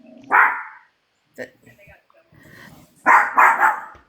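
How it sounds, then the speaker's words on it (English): A dog barking at a television indoors lets out short bursts of sharp barks, one early, one brief, then a quick cluster of several, with people talking nearby. "dog is barking"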